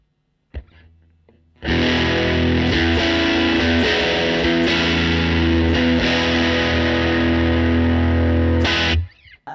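A heavily distorted electric guitar played through a Fender Tone Master Pro amp modeler plays thick sustained chords, loud and saturated, starting after a brief pluck and ending abruptly.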